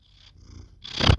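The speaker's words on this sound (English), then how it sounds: "Hear her purr?" A cat's soft, low purring rumble, brief and close, swelling louder toward the end.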